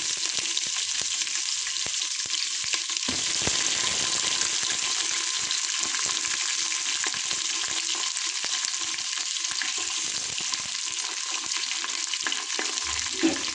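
Chopped onions and peanuts fry in hot oil for vegetable palav, giving a loud, continuous close sizzle with occasional stirring scrapes.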